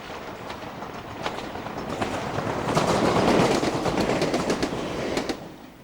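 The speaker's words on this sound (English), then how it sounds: "This 456 is about to cross a set of points" A British Rail Class 456 electric train in 1997 rolls over a set of points, its wheels beating a steady clickety-clack that swells to a loud, close peak mid-pass before easing off near the end.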